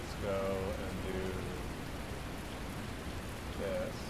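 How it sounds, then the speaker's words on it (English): Rain pours steadily in a video game, a soft constant hiss with faint siren tones rising now and then in the background. "the game audio is the rain and sirens"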